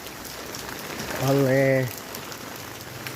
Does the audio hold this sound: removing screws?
no